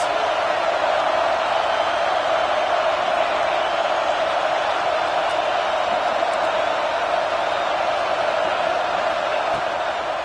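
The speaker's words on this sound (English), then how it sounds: "Big 3rd down as the crowd gets behind this defense." A packed football stadium crowd at a Texas A&M game roars in a steady, dense wall of cheering that holds without a break, loud and enveloping, with no distinct voices standing out.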